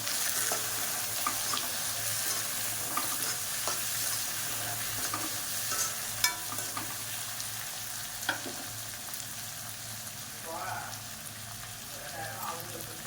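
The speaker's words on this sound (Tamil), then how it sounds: "தக்காளி போட்டு நல்லா வதக்கிக்கலாம்." Chopped tomatoes frying in a pan with onions for a kulambu, a steady sizzle with spatula scrapes and stirring clatter, constant and close.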